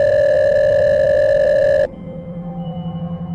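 A phone rings inside a pocket, first as a loud steady electronic tone that cuts off abruptly, then as a softer pulsing, warbling ring tone.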